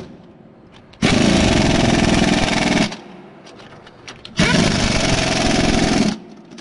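A power tool tightens bolts during work on an air compressor, starting up loud and close in two sustained bursts of about two and three seconds each, with a brief pause of quieter background between them.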